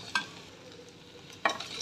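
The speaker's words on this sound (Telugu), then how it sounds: "కారం, ఉప్పు, గరం మసాలా ఇవన్నీ బాగా కలపాలి." Chili powder, salt and garam masala are stirred in a hot pan for egg pickle: two quick spatula scrapes over a soft, steady sizzle, near and quiet, with no voices.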